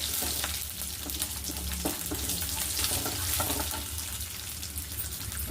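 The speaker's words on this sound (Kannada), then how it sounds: "ಈಗ ಬೆಳ್ಳುಳ್ಳಿ ಹಾಕೋತೀನಿ ಸ್ವಲ್ಪ. ಸಾಸಿವೆ ಆದಮೇಲೆ ಸಾಸಿವೆ ಸಿಡಿದೆ" Garlic dropped into hot oil with spluttering mustard seeds, a close, busy frying crackle with stirring scrapes and small pops layered over a steady sizzle, no speech.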